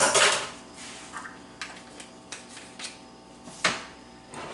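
Homemade spice rub for apple wood smoked pulled pork being mixed in a bowl: a run of light clinks and scrapes of a utensil against the dish, with a few sharper taps, close and fairly quiet.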